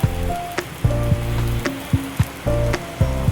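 Chili powder, masala and coriander powder sizzling in a hot pan, a steady crackling fry with a few sharp clinks and scrapes of a spoon against the pan.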